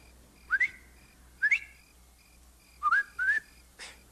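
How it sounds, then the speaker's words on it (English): A person whistles a short signal, rising two-note calls repeated four times in quick pairs, clear and fairly near against a quiet background. "whistle like this"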